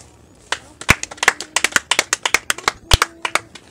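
A church congregation applauds for Jesus with sharp, close hand claps in a quick, slightly uneven rhythm, starting sparse and then becoming a steady patter.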